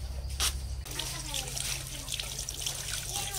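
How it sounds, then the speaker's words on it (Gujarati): On a farm, water from a tap trickles and splashes steadily while betel leaves are washed, a soft continuous flow with voices talking nearby. "આ ધોઈ દેતા પાન નાગરવેલનું"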